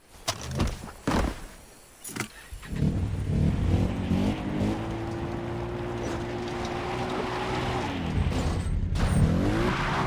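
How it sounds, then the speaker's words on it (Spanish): A motorcycle engine in Far Cry 3 starts with a few clunks and thumps, then revs and holds a steady, fairly loud drone that rises and falls in pitch, with no talking. "ahí está la que estaba buscando, la moto"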